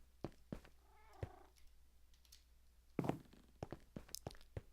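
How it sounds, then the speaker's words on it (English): Cats meow near a pet palace inside a video game, with a few short meows and a purring or trilling call among scattered soft thumps and footstep-like taps, fairly quiet overall and with no talking. "And why do I hear cats? Oh, because the pet palace is nearby."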